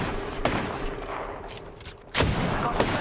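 Gunfire in the video game Apex Legends crackles in quick bursts of shots, with a heavier, louder volley breaking in partway through, all at close range.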